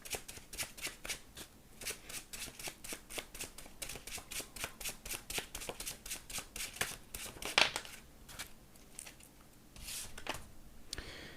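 Tarot cards being shuffled, a long run of quick, riffling flutters in a steady rhythm with a brief sharper snap near the middle, close and fairly soft, with no talking.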